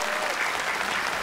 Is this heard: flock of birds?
no